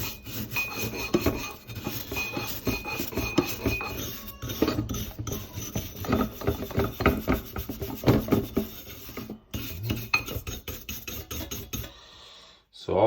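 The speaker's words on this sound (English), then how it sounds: "I'm not even scrubbing this hard, you know." A Kamado Joe grill chimney being scrubbed in a stainless steel sink, with steady rasping, rubbing strokes running continuously and close up before cutting off near the end.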